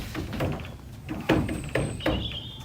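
Three sharp knocks on a horse trailer, evenly spaced and fairly close, following quieter handling and shuffling sounds, with faint birdsong in the background.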